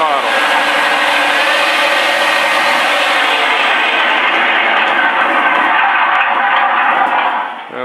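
A-1 Skyraider piston engine held at 45% throttle in a flight game sound mod, a loud, steady droning roar that holds constant and then dips slightly at the end.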